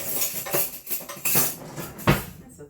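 A spoon scrapes and clinks against a casserole dish holding a meat and veggie casserole with zucchini crust, making several short, close, uneven scrapes and taps ending in one firmer knock.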